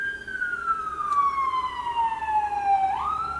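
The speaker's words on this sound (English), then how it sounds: "Listen to that siren." A wailing siren sounds steadily, its tone sliding slowly downward before jumping back up, fairly near and continuous over faint background noise.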